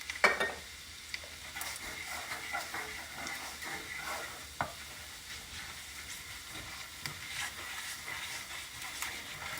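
Sausage gravy made with bacon grease is stirred in a frying pan, with a soft steady sizzle and hiss under scattered scraping and clinking of the spoon against the pan.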